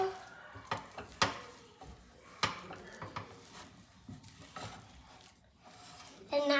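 A utensil scrapes and taps quickly against a frying pan while scrambled eggs are mixed, producing close, irregular clinks and scrapes over a faint sizzle, with a louder clatter at the end and no talking.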